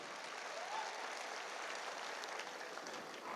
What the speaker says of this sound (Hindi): मैं चाहूंगा गुरुजी के लिए भी जोरदार तालियां चाहिए।